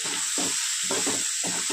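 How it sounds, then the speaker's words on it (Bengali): Chowmein noodles are stir-fried in a pan under a constant bright sizzle, with rhythmic scraping tosses of the spatula about every half second, close up. "এভাবে নেড়ে চেড়ে ভালো করে ভেজে নেব"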